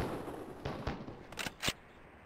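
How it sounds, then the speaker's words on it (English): Two buckshot shotgun blasts fired at center mass in a video game, sharp broadband bangs about a quarter second apart, the second louder, following a few softer thuds over a quiet background. "2 shots to center mass, with buckshot."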